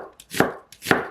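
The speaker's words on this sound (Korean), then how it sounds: "양파 3개는 얇게 썰어주세요." Two crisp knife strokes thinly slicing onions on a cutting board, each a sharp close chop with a brief slide before it, evenly spaced and with no voices.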